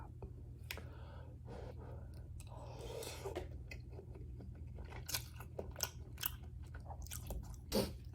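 Someone up close eating an upgraded egg dish for breakfast, soft chewing and bites over a low hum, with quiet breaths and brief murmurs between mouthfuls.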